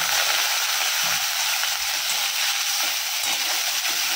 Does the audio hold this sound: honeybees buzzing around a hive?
no